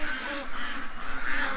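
Upset ducks quacking near a turtle trap, a busy overlapping chorus of nasal quacks, close and fairly loud, with no talking over it.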